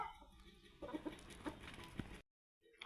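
Country hens on a farm give several short, close clucks over a low, noisy background, followed by a brief moment of silence.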